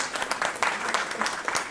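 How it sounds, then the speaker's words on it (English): Audience claps at a business forum on clean air, a short burst of scattered, moderately close hand claps with uneven rhythm and no talk over it. "we should really give her a round of applause"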